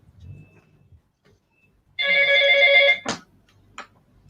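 A telephone rings once in a loud, close electronic burst lasting about a second, followed by a sharp click and a brief faint tone, after a low murmur at the start.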